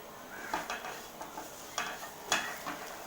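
Curry leaves being stirred in a pan for chicken curry give a run of faint, separate scraping strokes over a low sizzle, with no voices.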